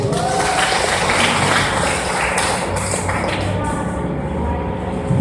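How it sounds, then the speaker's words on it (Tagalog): An audience at a church healing message gathering claps together in a dense burst of applause, loud and close, fading slightly toward the end with no clear speech. "Pumalakpak ang mga gising."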